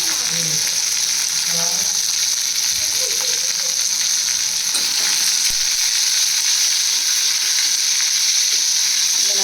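Three medium onions sautéing in a pan for chicken kulambu, a loud, continuous hiss of frying oil with faint stirring underneath and no pauses.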